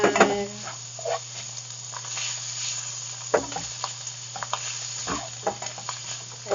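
An onion mix for a mushroom omelette sizzles steadily in a frying pan while a utensil stirs and scrapes through it in scattered taps, fairly close, with no talking.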